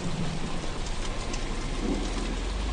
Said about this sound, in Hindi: तभी रास्ते में तेज बारिश होने लगती है।